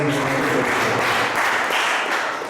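Applause for schoolchildren at a Diwali celebration, a dense patter of clapping that sounds a little distant and fades toward the end.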